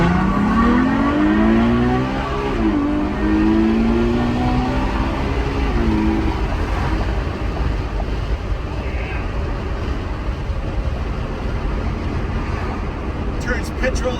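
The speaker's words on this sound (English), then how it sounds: "high revving, dry sump, V12 for the win." A powerful Ferrari FF V12 engine, high-revving with dry sump, drones and climbs in pitch while driving at speed on a highway, with steady wind and road roar underneath; a voice talks over it.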